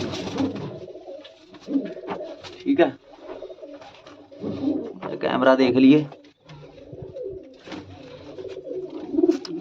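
Pigeons in a loft coo in repeated throaty bursts, close and clear, while someone talks over and between the calls.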